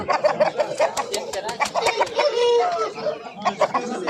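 Roosters and chickens cluck and call at a busy poultry market in a rapid, jumbled series of close, loud sounds, with market talk in the background.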